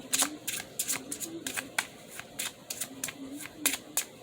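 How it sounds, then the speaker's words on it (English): Major arcana tarot cards being laid out for a New Year reading, a run of crisp, closely spaced card flicks and snaps with soft shuffling between them, faint voice traces underneath. "I'm going to put out an additional major arcana card for each one of those"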